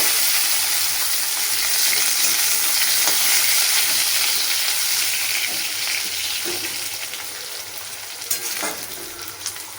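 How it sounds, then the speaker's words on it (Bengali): Potatoes fry in hot oil with a dried red chilli and whole cumin, making a continuous close sizzle with occasional stirring scrapes, and the hiss fades gradually over the last few seconds. "আমি এবার আলুটাকে ভেজে নেব"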